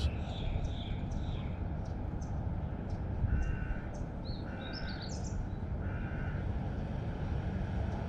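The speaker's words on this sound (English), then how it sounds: "I hear a crow." A crow caws several times in a short series at moderate distance over a steady background hum of a construction site in Tel Aviv, a Middle East city; no one speaks.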